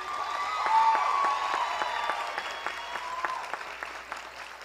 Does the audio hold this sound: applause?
yes